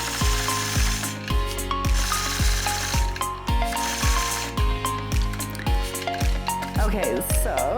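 A sewing machine stitches across a star quilt block, a loud rhythmic mechanical chatter in evenly repeating bursts close by, pausing briefly near the end.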